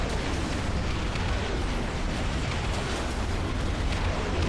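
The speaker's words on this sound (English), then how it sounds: "Looks like the base is gonna be destroyed in a second." A base being destroyed in the strategy game Ashes of the Singularity, with a dense, continuous roar of overlapping explosions and rumbling blasts that stays loud and unbroken throughout.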